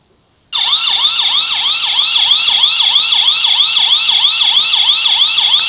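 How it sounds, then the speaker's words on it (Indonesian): A loud electronic siren tone from a motion-sensor doorbell starts abruptly and wails in quick, repeating up-and-down sweeps, steady and shrill throughout. "Nada sirene akan berbunyi setelah beberapa saat."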